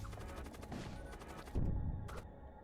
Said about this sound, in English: Let's fire the flame lance to distract them somewhat.